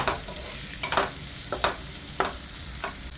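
Onion, green chilli and broccoli sauté in a pan, a close, continuous sizzle with a spoon scraping and tapping the pan every half second or so in an uneven stirring rhythm.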